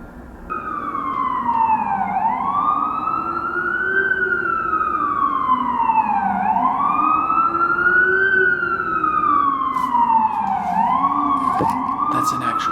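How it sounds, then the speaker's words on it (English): Emergency vehicle siren wailing outdoors, a loud continuous rising-and-falling wail that cycles steadily through the whole stretch, steady in level as if passing nearby. "That's an actual siren, by the way."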